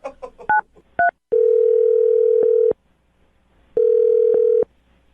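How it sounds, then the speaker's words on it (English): Two quick DTMF keypad beeps, then a long steady telephone tone that stops, and later a second identical long tone, all loud and close with no talking. "I'm going to dial the phone number, get him on the phone"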